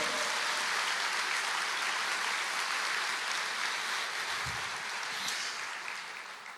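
A church congregation applauds during a sermon, producing a thick, continuous roar of clapping that fills the room evenly for several seconds before gradually tapering off at the end.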